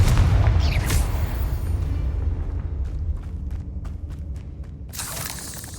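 A Confringo blasting spell detonates in a Harry Potter video game, giving a deep, booming explosion that rumbles and fades over several seconds. A few sharp crackles follow, then a fresh burst of noise rises at the end.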